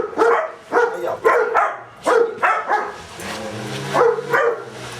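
A dog barks repeatedly up close, loud sharp barks in quick bursts with brief pauses between them.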